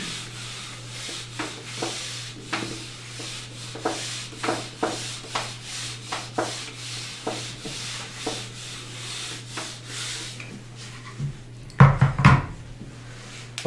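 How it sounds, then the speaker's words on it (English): Repeated rubbing strokes erase a lecture board, a steady series of rhythmic swipes of similar loudness, followed by a few sharper knocks near the end. "So I have to rub this now."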